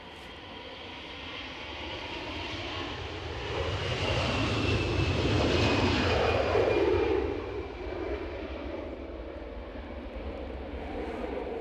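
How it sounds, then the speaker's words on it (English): Ryanair passenger jet arriving at Edinburgh airport, with a steady loud engine roar and whine that swells to a peak midway as it passes, then eases off while staying audible, no talk. "And you got Ryanair coming in."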